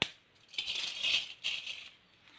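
Sesame seeds patter into a hot pan for roasting, giving a soft rattling hiss in a few short bursts, quiet and close.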